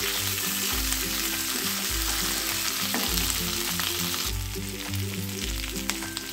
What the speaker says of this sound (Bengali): আদা বাটা আর কাঁচা লঙ্কাটা দিয়ে দেবো।